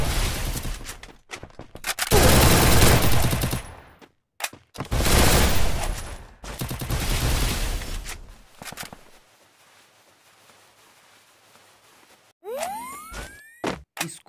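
Gunfire in a battle royale shooter game: loud, dense bursts of rapid automatic fire separated by short gaps, then a quieter stretch, ending with sweeping, whooshing game effects.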